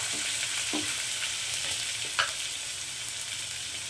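Pieces of pointed gourd (potol) coated in turmeric fry in a pan, a steady close sizzle broken by a few spatula scrapes and stirring clinks, with no speech.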